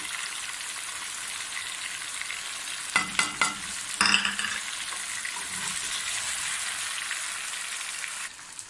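Spices for chicken kabsa, including ground coriander, black pepper and salt, fry with a steady close sizzle in a hot pan, while a few sharp scraping stirs cut through around the middle.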